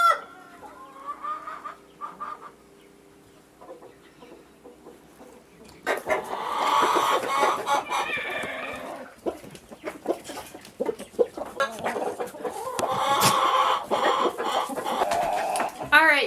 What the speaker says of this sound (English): so we are in the chicken coop